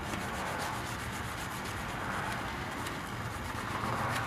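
Roughly 120-grit sandpaper scrubs back and forth over a plastic radiator surface to prepare it for joining, giving a continuous close, gritty scratching with quick rhythmic strokes throughout.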